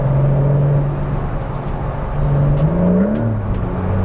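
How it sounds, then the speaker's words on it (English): A stock Porsche 911 GT3 exhaust bellows loud and close as the car accelerates, its tone climbing steadily with a rising sweep near the end. "for a car that's bone stock, it's pretty lively and really lets you kind of hear that exhaust"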